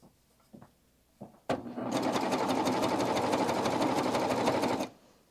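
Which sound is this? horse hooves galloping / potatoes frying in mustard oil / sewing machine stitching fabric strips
sewing machine stitching fabric strips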